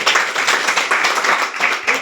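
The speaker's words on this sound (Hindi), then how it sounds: "जोरदार ताली संसद के लिए" An audience breaks into loud, dense applause at a DXN business meeting, many hands clapping continuously and evenly for the whole stretch with no pause.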